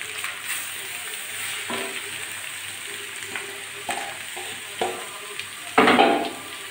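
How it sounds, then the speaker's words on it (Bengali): Grated beetroot frying in a pan with onion, garlic and green chili, a steady close sizzle with occasional stirring scrapes and a louder burst of frying near the end. "এখন আমি গ্রেট করে রাখা বিটগুলো দিয়ে দিচ্ছি।"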